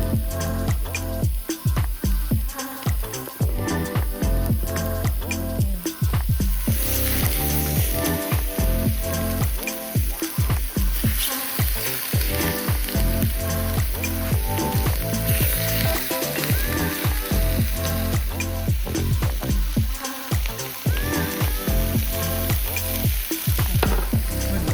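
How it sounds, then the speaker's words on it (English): Salmon skin sears in a hot pan with a loud, continuous close sizzle and crackle that holds steady throughout, with scattered sharp pops and no talking. "Now, while my salmon is searing"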